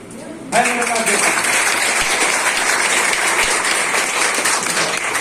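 Applause from a crowd of parents and students at a middle school parent-teacher meeting and report card event, a dense sustained wash of clapping that begins abruptly and carries on steadily, with a voice briefly audible at the start.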